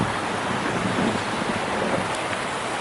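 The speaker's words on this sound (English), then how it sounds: "You can hear the river and it's flowing right now." A river runs past a historic water-powered mill in Southwestern Ontario, built in 1876 and restored in 2000, on a December day. Its water rushes in a steady, full, broadband wash with no pauses or talk.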